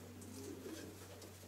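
Pigeons coo softly in a small pigeon loft at a top racing-pigeon breeding facility, a low steady murmur of overlapping calls under a constant background hum.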